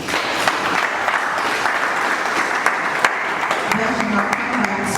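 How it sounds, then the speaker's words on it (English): An audience at a national stakeholders symposium gives sustained applause, an even wash of clapping with scattered sharper claps, while a voice talks faintly underneath near the end. "Round of applause"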